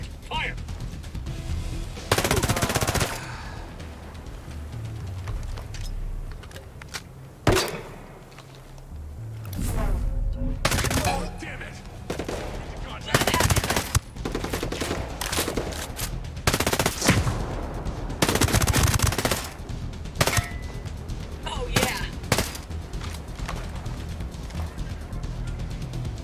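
Sustained gunfire in the tactical shooter Ghost Recon Breakpoint, with loud bursts of automatic fire and single shots repeating across the whole stretch over a constant background of game sound.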